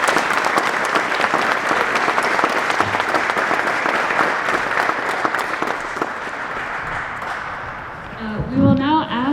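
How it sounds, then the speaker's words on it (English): A graduation audience for a U.S. Army flight surgery class gives a loud, sustained round of applause, dense, even clapping that fades near the end as a voice begins speaking. "Can I get a round of applause again?"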